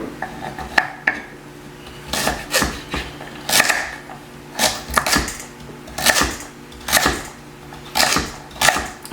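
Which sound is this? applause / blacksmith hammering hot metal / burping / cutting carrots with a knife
cutting carrots with a knife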